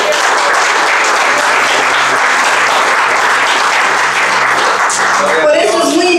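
A church congregation claps together in a loud, dense burst of applause that fills the room evenly, with a few voices mixed in, before it thins out toward the end.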